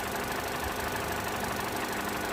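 Vauxhall Corsa D 1.2 petrol engine idling after an engine replacement, a steady, even broadband hum heard close with no voices.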